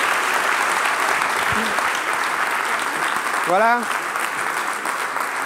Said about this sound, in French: Ça mérite vraiment des applaudissements.